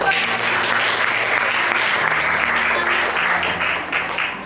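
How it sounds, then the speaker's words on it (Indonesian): A classroom group applauds a student's presentation on compound interest during a teaching practice lesson, a steady, dense wash of many hands clapping together for several seconds with no pause. "Tepuk tangan dulu"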